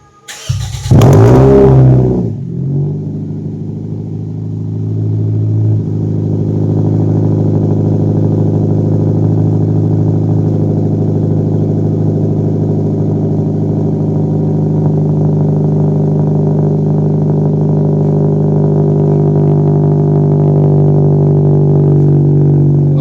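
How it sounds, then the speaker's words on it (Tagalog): A Toyota Vios fitted with a new stainless 304 exhaust idles loudly and steadily after a short burst of revving at the start, with a deep, continuous drone close by. "Tingnan natin kung nag-iba ba yung tunog ng exhaust ni boss."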